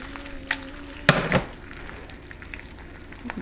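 Food frying in a stainless steel pan in a galley kitchen, a low steady sizzle with a sharp clatter of stirring near the middle, close and alone.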